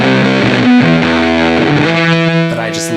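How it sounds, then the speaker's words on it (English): Electric guitar played through a Pet Yeti distortion pedal, producing a woolly, fuzzed-out tone of sustained, heavily distorted notes that shift pitch a few times, loud and close, with no talking over it. "kind of like woolly, fuzzed out sound"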